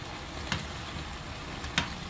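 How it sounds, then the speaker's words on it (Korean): Eggplant stir-frying in cooking oil in a heated pan gives a faint, steady sizzle close by, with two brief louder scrapes or stirs breaking through the low frying hiss. "팬을 달군 다음에 식용유 두르고 가지를 식용유에다 볶다가"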